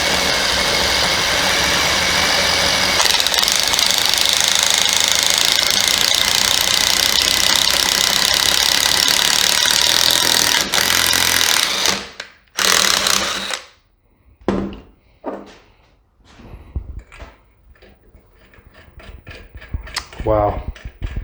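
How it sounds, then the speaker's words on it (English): A power drill fitted with bits from a cheap drill and tap set bores the largest hole into metal, a loud, steady mechanical whine that runs for about eleven seconds, stops abruptly, then gives way to scattered speech. "How many minutes did that take us to drill all these holes?"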